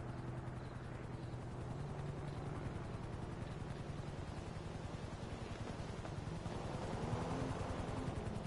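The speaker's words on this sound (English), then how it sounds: "A helicopter is on its way." A helicopter arrives in Grand Theft Auto Online, a steady low rotor thrum and engine drone that holds at a moderate distance and swells slightly toward the end.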